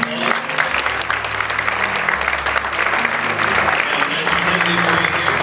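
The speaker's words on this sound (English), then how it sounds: "give Mr. Peltz a round of applause" University chapel crowd applauding Mr. Peltz, a dense, sustained roar of clapping with crowd noise and faint voices underneath, loud and continuous to the end.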